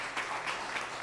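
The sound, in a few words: church congregation applauding to welcome a pastor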